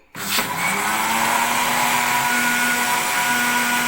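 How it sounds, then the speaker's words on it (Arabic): An electric blender whipping sugar, ghee and water for basbousa switches on sharply and runs as a steady, loud whirring hum with a high motor whine, close up and uninterrupted. "اضرب الخليط بتاعنا دوت في الخلاط"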